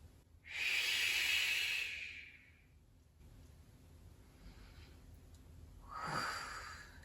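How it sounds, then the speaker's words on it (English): A person seated during gentle exercise takes a long, loud breath through the mouth, pauses, then gives a shorter exhale, both close and breathy with quiet gaps between. "Inhale and exhale."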